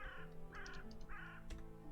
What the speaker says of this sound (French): Calme-toi, Roger le Corbeau